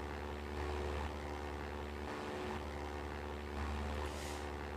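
A propeller plane in the Minecraft Flan's mod video game takes off with a steady, loud droning engine hum that holds throughout, swelling slightly in pulses, with no talking over it.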